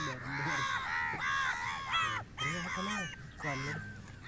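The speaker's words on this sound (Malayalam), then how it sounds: "അതുകൊണ്ടാണ് ഇവിടെ കാക്ക കൂടുതലായിട്ട് വരുന്നത്" Crows near a pig farm, a run of harsh caws coming in close repeated bursts with short gaps between them, loud and near and heard alone.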